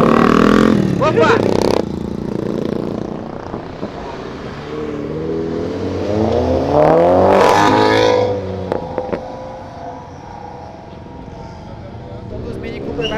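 Mini Cooper pulling away from a crowded event, engine revving up and swelling as it drives past close by, with people talking and exclaiming around it.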